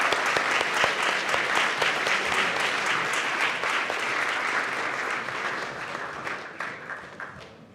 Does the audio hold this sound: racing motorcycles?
no